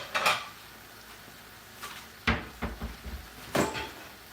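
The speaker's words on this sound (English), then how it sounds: "I'm gonna put the pasta now in the plates" Pasta is served onto plates in a kitchen, with a few sharp clinks and clatters of utensils against dishes spaced by quiet pauses, close by and without talk.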